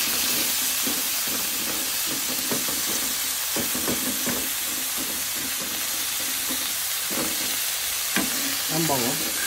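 Adobo flakes frying in a pan, a loud, steady hiss of hot oil with irregular scraping and tapping from stirring, close up, plus a brief squeaky sound near the end.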